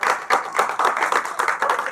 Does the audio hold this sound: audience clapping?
yes